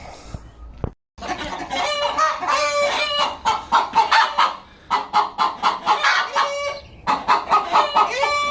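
A broody hen clucks insistently and loudly up close, a rapid run of squawky clucks and cackles with short pauses between bursts.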